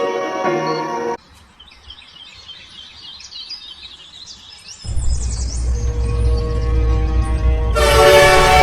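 A train bound for Mumbai, heard as a steady rumble of rolling wagons that builds and grows louder, with a horn-like tonal blast near the start and bird calls in between, and no talk over it.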